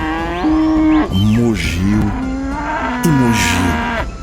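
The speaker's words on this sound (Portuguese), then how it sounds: "Então levaram um boi e o boi mugiu," An ox lowing loudly and close by, a couple of long, drawn-out moos with wavering pitch that fill the whole stretch alone.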